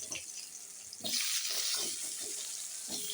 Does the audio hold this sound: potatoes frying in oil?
yes